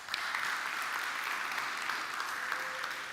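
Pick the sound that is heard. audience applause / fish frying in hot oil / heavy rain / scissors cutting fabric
audience applause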